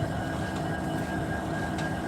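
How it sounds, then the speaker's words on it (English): A train rumbles steadily past at close range trackside in Thurmond, West Virginia, a loud continuous roar with a faint steady whine and occasional brief metallic clanks. "Only a second train to come through here today."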